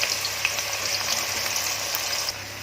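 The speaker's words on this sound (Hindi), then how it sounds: "ये सब मसाले भी जा रहे हैं भूनने को। इसको फास्ट गैस पे भूनूंगी अच्छे से।" Onions and spices frying in hot oil on a high gas flame, producing a continuous close crackling sizzle with faint popping, with no voices.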